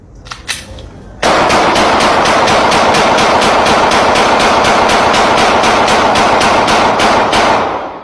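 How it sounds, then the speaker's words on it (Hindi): Rapid, loud burst of automatic gunfire rattling steadily for about seven seconds after a brief quiet lead-in, each shot evenly spaced and close. "ओ बहन देख तो लो कि तुम फायरिंग किधर कर रही हो"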